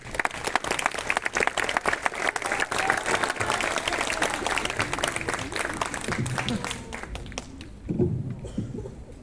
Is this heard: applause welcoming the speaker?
yes